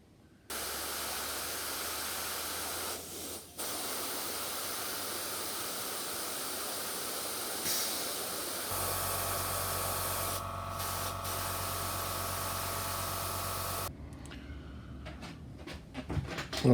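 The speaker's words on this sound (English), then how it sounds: "I'm using Mr. Colour RAF Sky for the codes, so I'll just mist this on." An airbrush mists Mr. Colour RAF Sky paint onto the codes of a 1/32 Tamiya Mosquito model, a steady close hiss of spray with a faint compressor hum beneath, changing pitch partway through and ending in a few light clicks.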